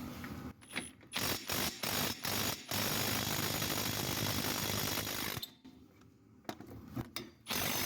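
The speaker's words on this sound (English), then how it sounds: "Let's zip off this caliper bracket." Rapid bursts of a pneumatic ratchet removing a brake caliper bracket on a Jeep Grand Cherokee, loud and close, whirring in several short pulses before a longer sustained run, then a few more quick spurts.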